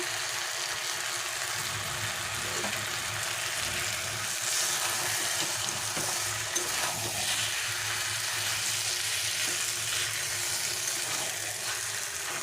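Boiled pea dal cooks in a pan for a bottle gourd greens dish, a constant broad frying hiss with faint stirring, steady and close, with no speech.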